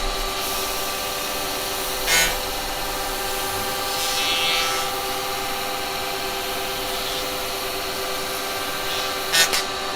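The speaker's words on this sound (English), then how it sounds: "I give that a very quick sand." A turned wooden piece spinning on a woodturning lathe gets a quick sanding, a steady whirring hum with soft rubbing swells and a few brief scraping bursts, no voices.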